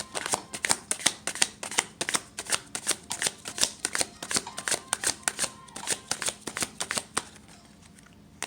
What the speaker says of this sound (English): Let's try a shuffle.